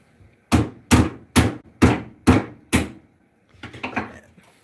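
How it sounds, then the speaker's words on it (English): Six loud, evenly spaced hammer blows strike a contraption being forced into shape inside a car, each a sharp thud with a short decay, followed by softer, scraping knocks near the end. "so we have to hammer it in so that it is in the shape."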